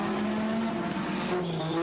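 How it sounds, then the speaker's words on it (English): A 1986 Formula 1 race car on track with its brakes locked up, giving a steady, sustained engine and tyre tone at moderate level with no talk over it. "Fabi tried the same thing with Alboreto, but he locked up at least 2 brakes and hit the dirt"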